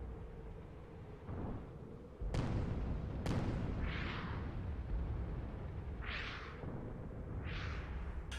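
Gunfire during an airship battle in a video game: several heavy booms and sharp blasts go off at irregular intervals over a low, continuous rumble, with some shots nearby and others more distant.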